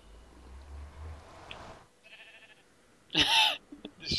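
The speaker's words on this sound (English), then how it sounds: "There's a freaking sheep." A sheep in the video game Minecraft gives a short, loud bleat near the end, after quieter game ambience and faint clicks.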